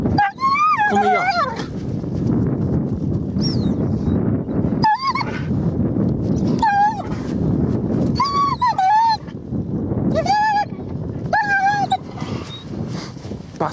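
A coursing dog whimpers and yelps repeatedly in high, urgent bursts while straining on the lead outdoors, with a voice talking over a steady background rumble.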